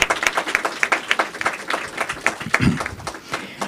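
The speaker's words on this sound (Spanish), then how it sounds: "un fuerte aplauso" An audience at an art seminar closing ceremony claps for invited guest speakers, a moderate run of individual claps with uneven, loosely rhythmic hits over a few seconds.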